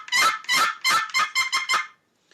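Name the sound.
turkey call being played for hunting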